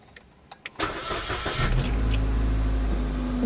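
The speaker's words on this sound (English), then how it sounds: "So we're going to start the engine." A 4th-generation Suzuki Swift 1.4 engine cranks and catches after a few light clicks, then settles into a steady, close, rumbling idle.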